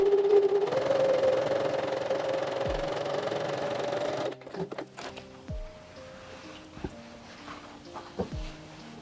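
A sewing machine stitches a seam on a velvet bag. A steady mechanical whirr runs for about four seconds, then stops, followed by scattered clicks and knocks as the machine is handled.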